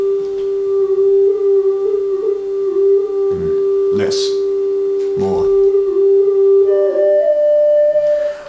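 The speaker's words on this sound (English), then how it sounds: "If I alter the depth, you'll hear it. The pitch oscillation will be deeper." Lyra synth tone through a shallow water effect, a sustained note whose pitch wobbles as the oscillation depth is turned down and then up, with someone briefly speaking over it.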